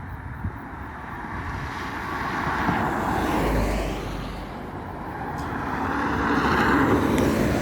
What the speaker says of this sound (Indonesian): cukup ramai ini kendaraan yang lewat